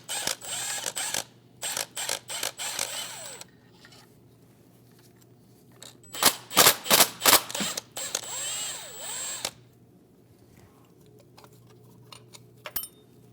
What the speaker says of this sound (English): Using a 10mm socket, we're going to remove the nut and the bolt for our bracket plate.